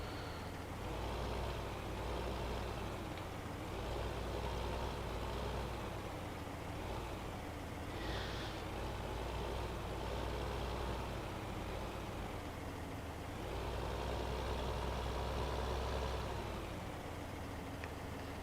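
Tractor engine in Farming Simulator 2015 runs steadily throughout, a continuous low droning hum with slight swells in level and no voices over it.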